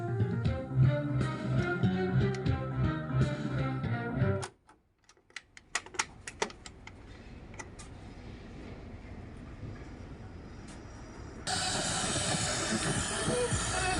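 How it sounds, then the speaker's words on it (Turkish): A Pioneer DC-777Z double cassette deck amplifier's radio receiver scans for stations with poor sound: music cuts off abruptly, scattered clicks and crackles follow, then a steady hiss that jumps louder toward the end. "Radyomuz arama falan yapıyor ama sesi böyle."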